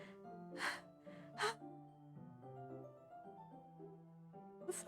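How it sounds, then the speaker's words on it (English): Sharp inhaled breaths in the video game Doki Doki Literature Club Plus, a few short airy gasps like air sucked through teeth, close and quiet over a low sustained eerie music drone. "It sounds like breathing. A sharp inhale, like someone is sucking the air through their teeth."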